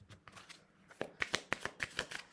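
Tarot cards gathered and riffled into a shuffle, a quick series of crisp close flicks and slaps with no talk.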